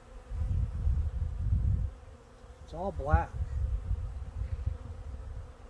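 European honeybees swarm a homemade bucket feeder, a steady close buzzing drone with louder bursts as insects pass near, while a person speaks briefly over it.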